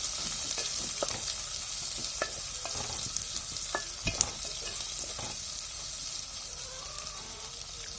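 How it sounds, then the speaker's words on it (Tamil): Onions sautéing in oil in a pan for a Tamil mullet fish curry, giving a steady broadband sizzle throughout with scattered clicks and scrapes of stirring, one sharper knock near the middle, close and moderately loud with no talking. "வெங்காயம் நல்லா பொன்னிறமாக வர வரையிலும் நல்லா வதக்கி எடுக்கலாம்"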